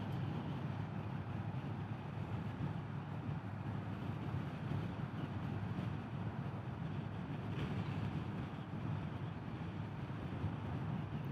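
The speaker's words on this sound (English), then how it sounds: "Right now I'm riding in sport mode in 5th gear around 45 mile an hour or so" A 2025 Indian Scout 101 motorcycle cruising in fifth gear in sport mode at about 45 mph and 2400 RPM, giving a steady, dense engine drone mixed with heavy wind rush, continuous and loud with no talking.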